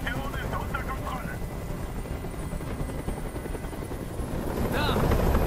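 A helicopter's rotor chop and engine drone from the video game Detroit: Become Human fill the scene steadily, with shouting voices breaking in over the noise.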